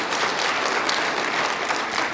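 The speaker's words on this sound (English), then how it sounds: "So big round of applause for them." An audience gives a research team a round of applause, a dense and even wash of many hands clapping at once, steady and fairly loud for the whole short stretch with no talking.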